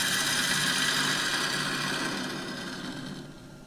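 A woodturning tool cuts steadily into an oak burr bowl spinning on a lathe, producing a continuous close hiss and rasp that holds steady and then fades slightly toward the end.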